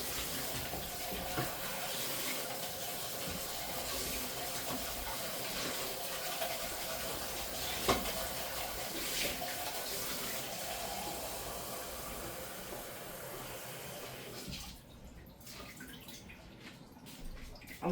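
Tap water runs into a measuring cup in a home kitchen while sauce cooks for sancocho, a steady close rush of flow that continues for about fourteen seconds, then quiets as the tap shuts off.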